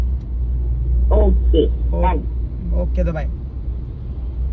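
Heavy traffic crosses a bridge with a parked car bouncing from the load: a steady, deep rumble runs throughout, with someone talking close over it.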